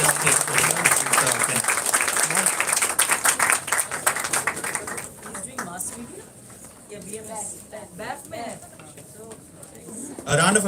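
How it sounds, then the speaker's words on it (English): Applause from an audience at a student research conference, dense clapping at first that thins and fades, with voices talking through it and a fresh burst near the end. "A round of applause for Ken."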